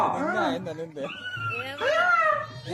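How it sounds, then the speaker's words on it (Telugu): Dogs whimper and yip close by in a dramatized devotional film scene, with a few short whiny cries mixed in among people talking loudly over them. "కుక్కలు కూడా వస్తాడే"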